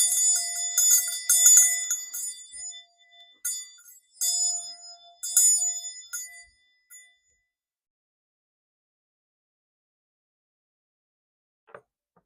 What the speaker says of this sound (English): I'm going to cleanse this space with a quick ringing of the bell.